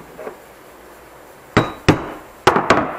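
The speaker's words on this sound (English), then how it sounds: "I come in here with a screwdriver and a hammer." Hammer strikes a screwdriver to stake a part on a GM Quadrajet carburetor during a rebuild: a faint tap, then four sharp metallic blows in two close pairs, up close with no talking.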